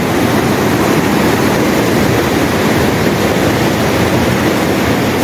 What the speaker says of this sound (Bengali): জলটা দেখুন কি সুন্দর বয়ে আসছে, ধাপে ধাপে ধাপে ধাপে নিচে বয়ে এসছে। এই ব্রিজের তলা দিয়ে জলটা চলে যাচ্ছে।